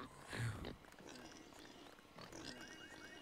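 A pig in the GTA Online video game gives a loud grunting oink near the start, followed by quieter in-game ambience with faint voices and a second rougher grunt later.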